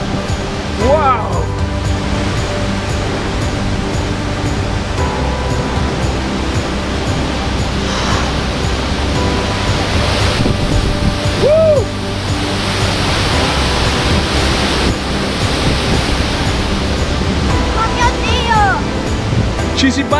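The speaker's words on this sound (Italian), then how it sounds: "c'è un po' d'acqua qui" Rushing water in a mountain valley in the Valle Aurina roars loudly and close, a dense, unbroken torrent lasting the whole stretch, with occasional voices faintly audible beneath it.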